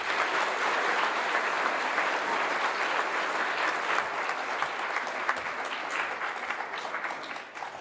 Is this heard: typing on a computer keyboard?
no